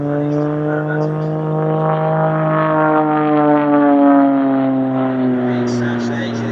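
An aerobatic propeller aeroplane performs at Sywell Airshow with a strong, humming engine drone whose pitch sags and then climbs gradually as it passes, sustained and fairly close.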